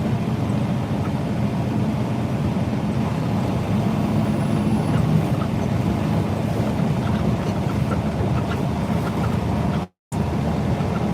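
A tractor-trailer easing its speed through a highway construction zone in New Jersey, heard from the cab as a loud, steady engine and road rumble that drops out for a moment near the end.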